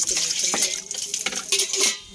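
Water is poured into a cooking pot to cook rice over a wood fire outdoors in the mountains. A brief, close run of splashing and trickling that ends after about two seconds.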